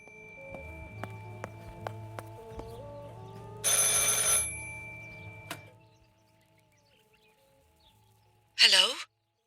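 A telephone rings in the video game Martha Is Dead, repeated tones sounding over quiet footsteps and other faint game ambience, followed by a short, sharp burst of sound near the end.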